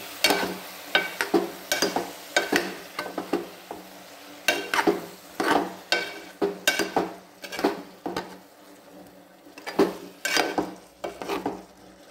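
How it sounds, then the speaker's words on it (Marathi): Soybean pulao being stirred in a metal pan, a spoon scraping and knocking in quick irregular bursts over a faint sizzle, close and clear with no talk. "हे चांगलं हलवून घ्यायचं."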